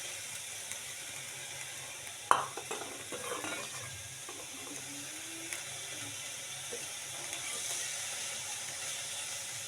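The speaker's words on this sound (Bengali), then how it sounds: "আমি পেঁয়াজগুলোকে আমি কড়াইতে দিয়ে দিচ্ছি" Sliced onions hit hot oil in a kadai, starting with a sharp clatter and burst of sizzling, then settling into a quieter steady fry with some scraping of a spatula.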